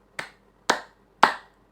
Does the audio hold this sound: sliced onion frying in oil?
no